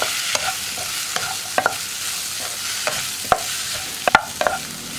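Cauliflower with onions and masala stirred in a pan for a cauliflower pepper fry, with a steady sizzle of frying under repeated scraping clinks of a spoon against the pan, with no talking.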